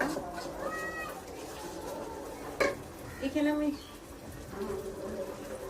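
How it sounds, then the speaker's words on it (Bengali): A spoon scrapes and stirs spices into beef in a pot, with soft intermittent scraping and a sharper clatter midway, under faint background tones. "এখন আমি মশলাটাকে ভালো করে মিশিয়ে নেব, নাড়া দিয়ে দেব।"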